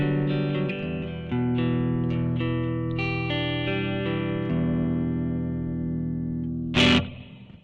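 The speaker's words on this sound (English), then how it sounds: "And then we've got a plate, which is more of a studio kind of reverb." Electric guitar through a Blackstar ID Core V3 amp modeller with plate reverb, a series of strummed chords ringing out with a smooth studio-style tail, closing on a sharp bright strum near the end; no talking.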